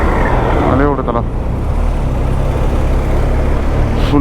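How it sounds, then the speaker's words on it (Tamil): Road traffic jam in Panama, a dense, continuous rumble of idling and crawling vehicles close by, with a brief tonal horn-like sound early on and a speaker talking over the noise. "ஃபுல்லாக டிராஃபிக் ஜாம்"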